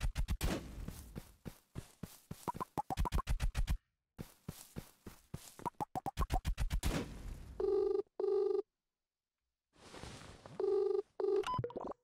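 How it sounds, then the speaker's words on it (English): An electronic phone ring in the cozy town-building game Go Go Town, sounding in a few short repeated tonal bursts with gaps between them, after a stretch of clipped game chatter. "Someone's ringing me behind the rock."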